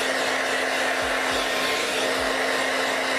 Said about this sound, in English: I gotta get my blow dryer up there.